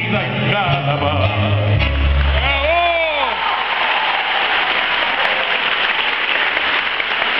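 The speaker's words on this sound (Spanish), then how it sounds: "Gracias por esas palmas." Applause breaks out from an audience as a tango song ends, the last sung notes and held instrumental tones fading under a broad wash of clapping that carries on steadily afterward.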